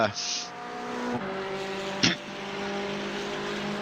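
A McLaren GT4 race car in a racing video game whines through the engine range with shifting revs and a brief sharp braking or tire screech midway, under a commentator's voice.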